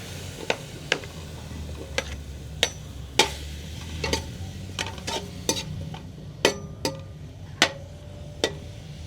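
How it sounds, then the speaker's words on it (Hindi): White fat (chakki) frying in a deep cooking pot, a steady low sizzle broken by sharp pops and clicks every second or so, close and moderately loud, with no talking. "तो इससे पहले अच्छी तरह से थोड़ा सा फ्राई करेंगे इस चक्की को, ताकि इसका जो ये घी है ये निकल जाए।"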